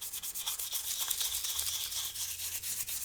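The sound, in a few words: scrubbing smoke-stained Switch with oven cleaner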